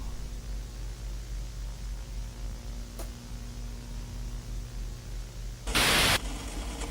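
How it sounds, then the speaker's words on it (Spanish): Constant hissing static with a low hum runs throughout, then a sudden loud burst of harsh white noise near the end. "El ruido de la estática casi no nos deja ver nada."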